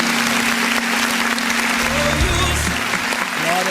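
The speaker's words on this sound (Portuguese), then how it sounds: "Aplauda o nome do Senhor." A church congregation applauds during a Portuguese-language worship service, a loud, dense, continuous clapping under sustained musical tones and a voice.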